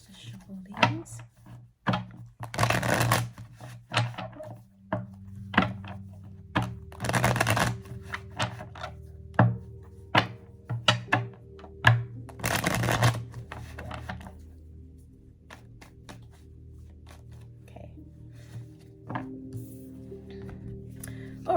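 Several bursts of quick riffling and flicking as a deck of tarot cards is shuffled nearby, separated by quieter tapping and handling sounds.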